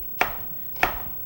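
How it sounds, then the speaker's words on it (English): A knife roughly chopping an onion-family vegetable on a board gives two sharp, separate chops about half a second apart, close and clear with no talk. "Just give them a rough there."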